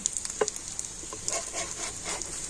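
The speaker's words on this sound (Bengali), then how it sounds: "আবারও তেলের মধ্যে একটুখানি ভেজে নেব" Egg and flour snacks fry in hot oil with a soft, steady sizzle, faint and close, broken by a few light clinks and stirring taps.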